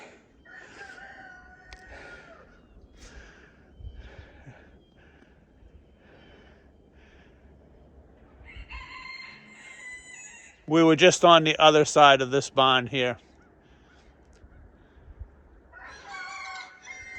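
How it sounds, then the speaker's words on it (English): Chickens cluck and squawk from a barn on a snowy farm, scattered calls throughout with a loud burst of clucking in the middle. Someone speaks nearby between the calls. "So you can hear all the chickens."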